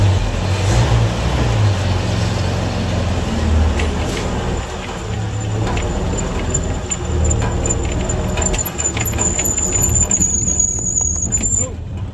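An M151A2 M.U.T.T. military jeep engine, running again after twenty years in storage, rumbles steadily and close as the jeep drives, with rattles and a high squeal toward the end.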